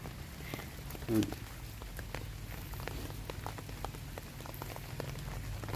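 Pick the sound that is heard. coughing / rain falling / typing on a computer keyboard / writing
rain falling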